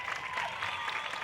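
Fans at a college football game between Valdosta State and Carson-Newman applaud a false-start penalty call, a brief, distant patter of crowd clapping in a stadium, faint and even.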